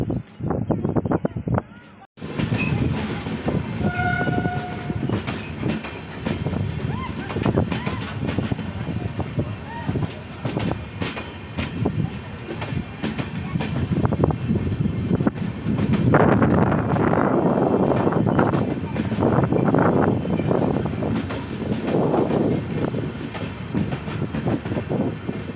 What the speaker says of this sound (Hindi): मेरे पीछे में देख सकते हैं आप जो एक्सप्रेस वो आ रही है।